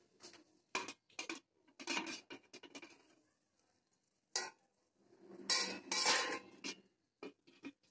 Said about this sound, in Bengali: এবার একটু ঢাকা দিয়ে দিই।